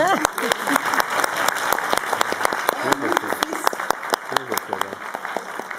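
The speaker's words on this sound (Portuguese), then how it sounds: "Aplauso." Audience applause at a literary award ceremony, steady clapping with sharp individual claps close by, while people talk over it.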